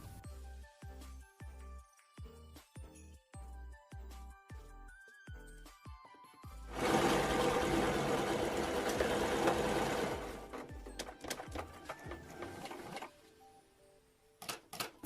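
A sewing machine stitches a trouser fly at a 1 cm seam, starting with short rhythmic bursts of needle strokes and then running steadily and loudly before slowing into scattered clicks.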